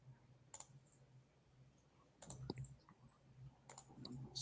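Three sharp mouse clicks on a computer, spaced a second or two apart, close and distinct against a quiet room hum, with no talking.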